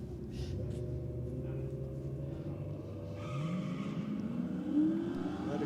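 Holden Commodore running nitrous at a drag strip, its engine a loud sustained drone with a rising pitch as it accelerates down the track, heard from the side.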